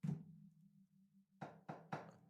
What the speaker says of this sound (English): That's me knocking on wood